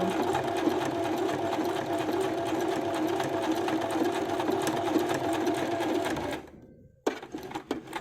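A sewing machine stitches steadily along the next raw edge of a small fabric pouch piece, a close, continuous mechanical whir that stops near the end, followed by brief handling clicks.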